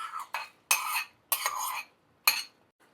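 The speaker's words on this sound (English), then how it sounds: "Give that a stir." Cooked saltfish being stirred in a pot with a spoon, producing several short scraping, clinking bursts in an irregular rhythm, close and fairly loud with no talking.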